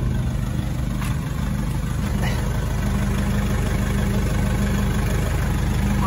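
A Nissan Navara NP300 pickup with its muffler removed and replaced by a straight stainless pipe idles close by, a loud, steady, throbbing low rumble with no talk over it.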